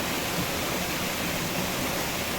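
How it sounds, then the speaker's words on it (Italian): Steady broadband rush of the Bognon waterfall in the Prealpi Bellunesi, a continuous close roar of falling water with no let-up and no voices. "La cascata bellissima, vedete, notate queste pieghe, un ambiente molto suggestivo."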